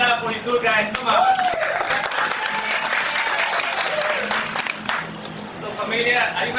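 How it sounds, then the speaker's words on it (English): Audience applause at a Mexican-themed Halloween show on a Disney cruise stop in Cozumel, a dense, steady patter of clapping lasting throughout, with voices and cheers mixed in over the crowd. "Can I have a big clap for you two guys?"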